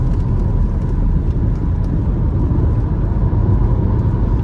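Audi A4 with a 2.5 V6 accelerating hard in third gear, its engine a steady, loud close-up drone that holds without a break.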